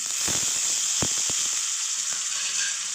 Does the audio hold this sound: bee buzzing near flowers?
no